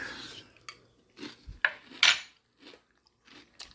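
Catalina Crunch cinnamon protein cereal crunched in milk, several short crisp bites and chews spaced unevenly, close to the mouth with no talk.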